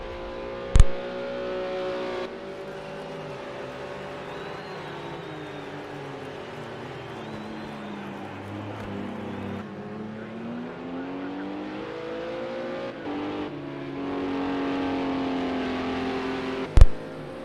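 Race car engines in a racing video game, an online league race at Hockenheimring with a Mercedes among the cars, give a sustained loud high whine, with pitch rising and falling as cars accelerate and shift, and two sharp clicks near the start and end.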